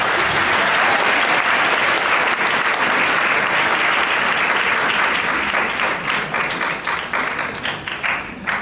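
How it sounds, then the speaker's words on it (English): At a female empowerment symposium, an audience gives a welcoming speaker a big round of applause, a loud, dense wash of clapping that thins toward the end into scattered individual claps. "so give her a big round of applause"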